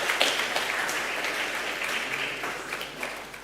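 An audience applauds at a National Science Week awards ceremony for a school student honoured in absentia, with brief steady clapping across a hall that tapers slightly.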